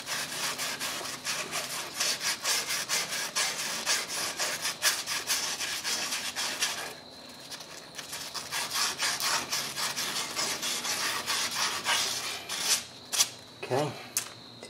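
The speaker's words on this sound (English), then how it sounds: "Just want to get the corrosion off of there." Something rasps corrosion off a lower ball joint on a 2001 Ford Explorer Sport Trac, giving loud, rapid back-and-forth scraping strokes with a short pause midway and a few knocks near the end.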